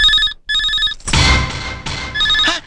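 A telephone rings in short electronic bursts, two clear rings separated by a brief gap, then a burst of louder clattering noise before a final ring trails off.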